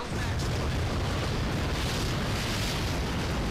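A MAC cannon strike in the Halo Wars real-time strategy game lands as a huge, sustained explosion, a loud roaring blast with heavy low rumble that fills the whole moment.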